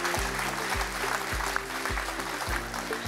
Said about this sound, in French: Bravo, on vous applaudit.